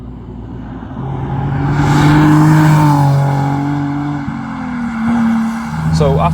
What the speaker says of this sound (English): you've got to rev them out to get the power out of them